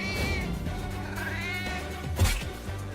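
A cartoon mother cat meows at close range in a few drawn-out, wavering cries over a steady background bed, ending with a sharper, louder yowl.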